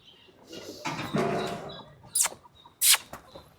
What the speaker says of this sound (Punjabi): ਕਬੂਤਰ ਉੱਡ ਗਿਆ ਗੀਰ ਤਾਂ ਦੇਖੀ ਕਿੱਧਰ ਗਿਆ